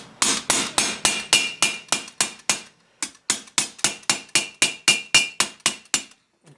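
Overlapped, riveted steel plates of a Milanese mitten gauntlet of circa 1450 are hammered together with sharp, ringing metal blows. About twenty strikes come in a steady rhythm with one brief pause, close and loud.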